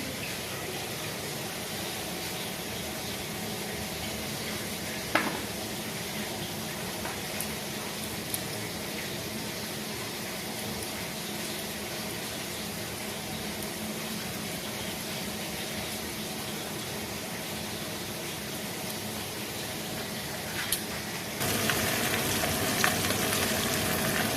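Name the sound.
catla fish frying in pan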